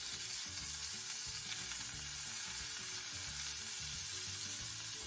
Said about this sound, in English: Now I'll just flip over my shrimp and cook the other side.